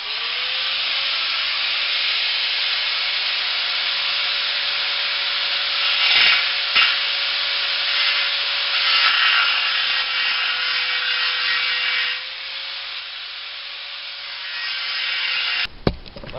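A circle is cut from a steel water tank, a sustained harsh hissing and grinding roar with a steady tone running for about fifteen seconds, then stopping abruptly near the end.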